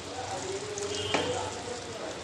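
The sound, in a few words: potatoes added to frying khichuri, sizzling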